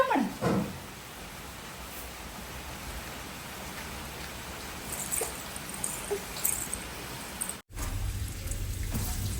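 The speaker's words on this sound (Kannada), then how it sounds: "ಹೊರಗಡೆ ಫುಲ್ ಮಳೆ ಬರ್ತಿದೆ" Rain falls steadily outside as a soft, even hiss, with a few faint knocks and a brief cutoff near the end.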